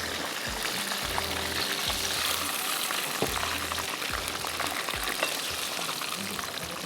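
Cheese balls fry in oil with a continuous, moderate hiss, while low knocks and thumps of handling or a strainer come through at irregular intervals.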